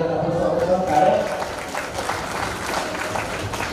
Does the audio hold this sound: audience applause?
yes